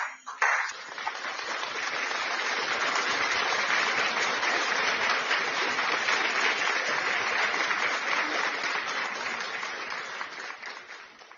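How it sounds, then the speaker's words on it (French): A church congregation applauds for several seconds, dense sustained clapping that swells, holds steady, then tapers off, with no voices over it. "Applaudissons for the Lord Jesus Christ."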